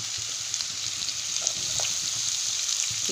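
Cabbage, capsicum, carrot and beans fry in a pan for fried rice, a steady, close, loud hiss and sizzle with occasional stirring scrapes, and no voices.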